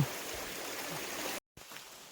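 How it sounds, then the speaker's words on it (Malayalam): Water from a mountain stream flowing in a steady, close rush with a bright, even hiss, briefly cut out near the end before resuming. "നല്ല ശുദ്ധമായ നീരൊഴുക്കാണ് മലയിൽ നിന്നുള്ള നീരൊഴുക്കാണ്"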